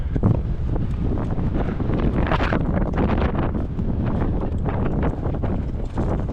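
Steady, roaring wind buffets the microphone throughout a ride on an iGo Outland Sawback RS hardtail electric mountain bike, a loud broadband rush with gusty swells and no talking.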